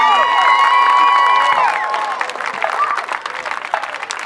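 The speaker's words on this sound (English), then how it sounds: "Have another round of applause for the Screaming Eagles marching band." A stadium crowd applauds and cheers for the Screaming Eagles marching band after a halftime show, loud dense clapping that swells at first and then thins out, with scattered shouts and a voice briefly heard.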